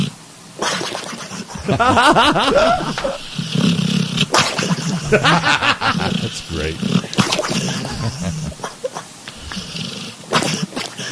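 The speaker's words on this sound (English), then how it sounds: "So you need to imagine this is a Great Dane sleeping." A Great Dane makes snorting, groaning sleep noises with wet, rumbling breaths, while people talk and laugh nearby.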